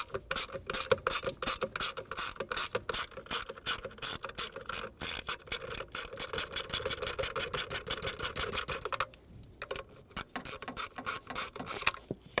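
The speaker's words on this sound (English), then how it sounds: "Let's actually remove these two 7mm headed bolts that hold the plastic sheathing around this computer." Dense, rapid ratcheting clicks from a socket wrench backing out two 7mm bolts on plastic sheathing around the computer of a 2000-2005 Ford Excursion, close and steady with brief pauses near the end.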